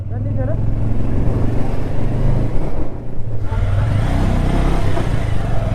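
A Bajaj Avenger 160 motorcycle rides through Marpha village on the Mustang route, its engine droning loud and close in a steady rumble with wind noise, while a rider talks over it.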